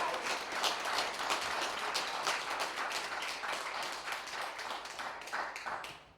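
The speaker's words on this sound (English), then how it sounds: "you can clap loud for our inspirational speaker" An audience at a National Action Network event claps for Reverend Larry Camp, a steady wash of applause that stays dense and fairly distant for the whole stretch, then thins out slightly at the end.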